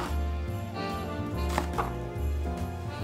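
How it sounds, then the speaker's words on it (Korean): A knife chops onion on a cutting board for Korean fish-cake soup, with a few sharp cuts heard over steady background music with a rhythmic bass. "양파를 잘라줍니다."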